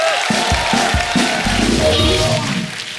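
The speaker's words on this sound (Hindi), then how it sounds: "शक्ति साहब के लिए एक बार जोरदार तालियां हो जाए।" Studio audience at a comedy talk show applauding and cheering loudly for an arriving guest, a dense roar of claps and whoops with a few heavy thumps, fading slightly at the end.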